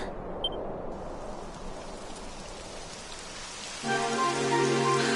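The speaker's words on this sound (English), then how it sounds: "It would have to go and start raining, wouldn't it?" Rain falls steadily in the Dragon Quest XI video game, a dense broadband hiss that holds throughout, with a sustained musical tone joining in near the end.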